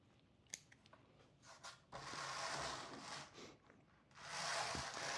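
Scissors snip leaves from a tiger bark bonsai: a few faint clicks come first, then bursts of crisp rustling and cutting at close range, quiet overall, with no talk.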